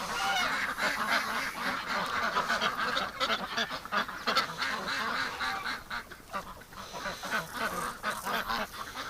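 Ducks outdoors on a frosty winter morning near a fence and gate, honking and quacking in a dense, continuous chorus close by, with no talking.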